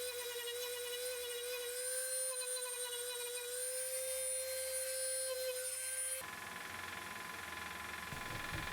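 A cheaper, lighter rotary texturing tool works on turned wood, giving a high steady whine with a sustained tone, shifting to a rougher, noisier grind near the end.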